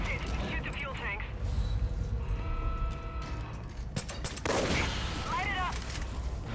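Gunfire in an animated cartoon episode, a sustained rattling fusillade aimed at fuel tanks, loud and continuous under shouted voices and a heavy rumbling score.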